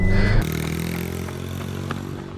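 A dirt bike engine revs with a loud burst, then settles into a steady throbbing drone with occasional rises in pitch as the bike pulls away, no talking over it.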